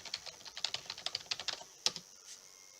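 Keystrokes on a computer keyboard enter a username and password, a quick, close run of light clicks in an uneven rhythm, pausing briefly before a final few taps, with no talking.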